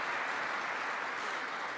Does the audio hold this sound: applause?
yes